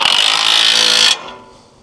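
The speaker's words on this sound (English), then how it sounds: "all I have to do is tighten this up with the impact, and it'll squeeze this together around the tongue" An impact wrench tightens a 3/4 inch nut on a bracket for a Wolfe Ridge log splitter in one loud, buzzing hammering burst of about a second, then cuts off abruptly into a fading ring.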